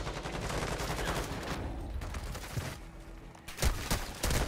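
Dense, continuous gunfire in the video game Warzone 2, overlapping bursts and shots filling the whole stretch with a few louder cracks near the end, no voices.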